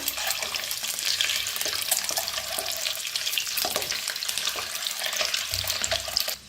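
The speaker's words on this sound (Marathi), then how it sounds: "तेल बी आपलं चांगलं गरम झालेलं आहे। तर अंडा फ्राय करून घेऊया।" Eggs frying in well-heated oil for an egg curry give off a steady, close crackling sizzle that carries on without pause.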